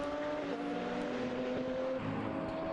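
GT race cars racing at Magny-Cours during a 2011 Blancpain Endurance Series round, a steady engine whine and drone, moderately distant and continuous, with no talk.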